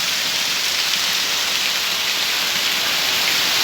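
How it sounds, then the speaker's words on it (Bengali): Heavy rain pours down in a dense, unbroken roar, loud and close, with no voices, in Sylhet, Bangladesh. "প্রবল বেগে এখনো বৃষ্টি প্রবাহিত হয়ে চলেছে"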